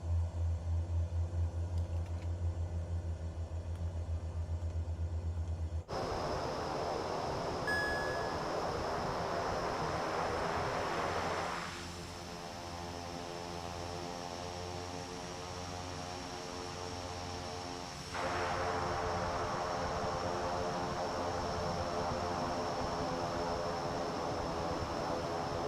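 Propeller aircraft engine held at low idle for taxiing in Microsoft Flight Simulator 2024, a steady droning hum with a low throb, constant and alone apart from a brief level dip midway.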